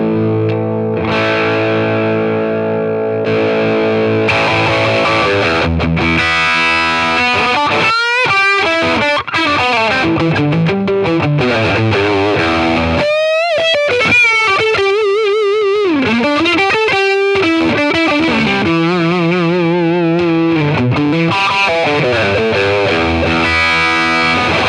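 Electric guitar played through a Line 6 Catalyst amp with its boost function engaged, giving a thick, heavily distorted tone with sustained chords and lead phrases that play continuously at full volume with brief pauses.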